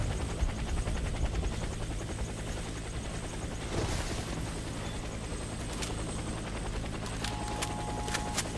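A helicopter in the Warface video game drones with a loud, continuous rotor and engine roar, joined by scattered bursts of gunfire and sharp clicks near the end.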